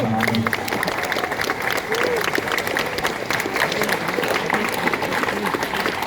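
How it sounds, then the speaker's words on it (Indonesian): Applause from a large crowd at an outdoor Scout Day ceremony fills the whole stretch, a dense, steady clatter of many hands with voices and cheering mixed in underneath. "Tepuk tangan buat kita semua."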